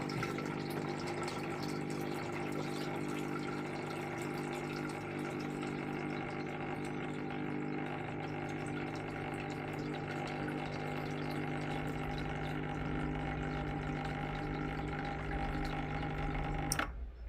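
An electric water pump motor runs steadily while filling a household water tank, producing a continuous even hum with a faint watery wash. It is fairly quiet and unbroken for the whole stretch, and no one speaks.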